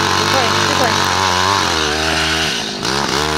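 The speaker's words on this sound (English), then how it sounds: "this is my dad using the drill bit for the dirt" Gas-powered earth auger, built like an ice auger, boring into dirt while planting trees; a steady loud engine drone with shifting pitch runs throughout, dipping briefly near the end.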